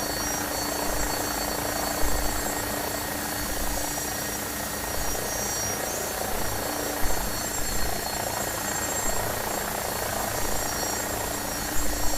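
An AgustaWestland AW109SP helicopter taxiing gives a constant, loud turbine whine and rotor hum heard from inside, steady throughout with faint periodic thumps.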